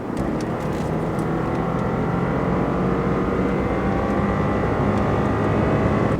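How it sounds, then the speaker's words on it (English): A 2011 BMW 750Li F01 with a twin-turbo V8 accelerates with a steady, loud, continuous engine roar heard from inside the car, no voices over it. "That is a twin-turbo V8 BMW engine."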